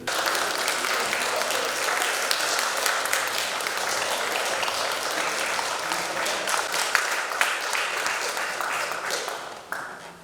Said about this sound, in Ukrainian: депутати аплодували стоячи упродовж кількох хвилин.